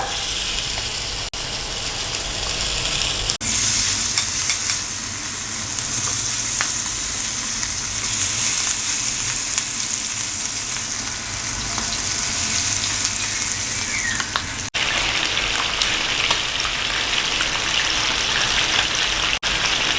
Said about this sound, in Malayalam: നമ്മുടെ എണ്ണ ചൂടായിട്ട് നമുക്ക് ചിക്കൻ ഇതാ എണ്ണയിലേക്ക് ഇട്ട് കൊടുക്കാം